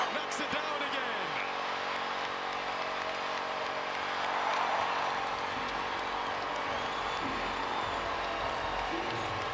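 Basketball arena crowd at a WNBA game between the Chicago Sky and Golden State Valkyries, a dense continuous roar of applause and cheering that swells in the middle, with some talk mixed in.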